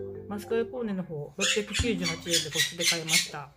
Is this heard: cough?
no